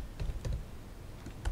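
A command is typed on a computer keyboard during a coding session: a short, uneven run of soft, close keystroke clicks with small pauses, ending in a firmer tap like an Enter key.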